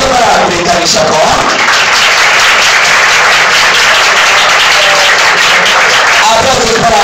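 A crowd at a nightclub event breaks into steady clapping and applause that swells after a brief lull and carries on continuously, with scattered voices underneath.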